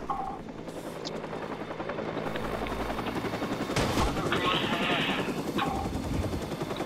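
Helicopter rotor drone from the Watch Dogs video game, a steady loud chopping wash filling the scene with bursts of gunfire mixed in.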